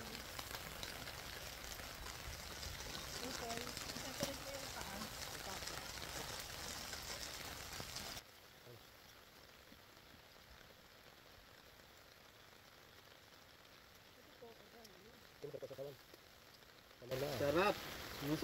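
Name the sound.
heavy rain at a campground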